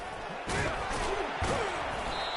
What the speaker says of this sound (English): Slammed to the ground, but not before he gets the first down.